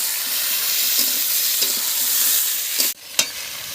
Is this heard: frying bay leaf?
yes